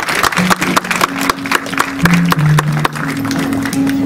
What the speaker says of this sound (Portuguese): Palmas para Deus.